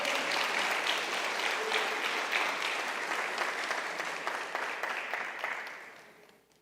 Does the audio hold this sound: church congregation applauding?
yes